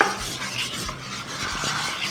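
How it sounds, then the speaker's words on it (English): Spoon stirring a thick no-bake cookie mix of chocolate and peanut butter in a bowl, soft scraping and sticky rubbing strokes repeating close up and quietly. "Stir it with this spoon."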